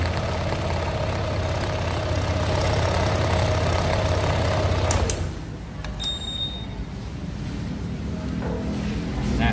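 A Honda PCX 160 scooter engine idles steadily after starting, a continuous low rumble with a brief dip and a couple of faint high clicks partway through, no talking.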